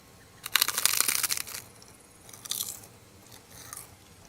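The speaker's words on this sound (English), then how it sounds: "Wait till you hear how crunchy this is." Crunchy bites and chewing from a character eating in Disney Dreamlight Valley: a loud burst of crisp crunches, then two shorter, quieter crunching bites, with no talking.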